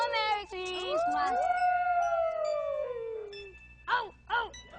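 A dog howls in a long, drawn-out wail that slowly falls in pitch, then gives a few shorter yelping howls close by. Faint voices are heard in the background.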